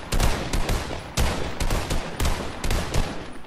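Scoped AR fired in a shooter game, loud close bursts of rapid gunfire in several clustered volleys with short pauses between them, no voices.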